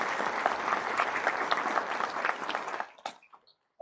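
Audience applause at a graduation ceremony for professional degrees, a dense, steady burst of clapping that fills the hall for about three seconds before cutting off into near silence with a few stray claps.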